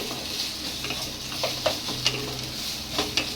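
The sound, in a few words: water lily stems frying in oil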